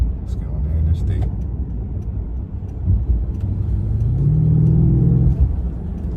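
A car's engine growls low under someone talking as it accelerates onto an interstate, the rumble swelling and rising in pitch toward the end as the throttle opens.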